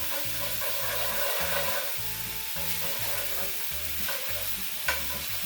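Venison tomahawk steaks searing in a hot pan, a constant close sizzle with a rhythmic thumping background beat underneath and one sharp tap near the end.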